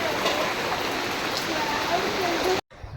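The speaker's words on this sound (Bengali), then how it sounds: "বৃষ্টি চলে আসছে।" Rain pours down in a dense, steady hiss, loud and close throughout before cutting off abruptly near the end.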